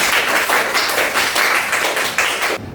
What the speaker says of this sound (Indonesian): tepuk tangan buat Mas Ian